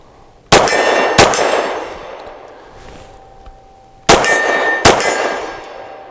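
A Taurus TS9 pistol fires four sharp, loud shots in two pairs, each pair spaced less than a second apart with a long gap between them, every report trailing off in a ringing echo.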